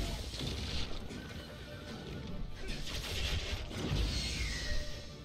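Horse neighing in the video game Berserk Band of the Hawk, a whinny rising over loud, dense battle noise with crashes and hoofbeat-like clatter throughout.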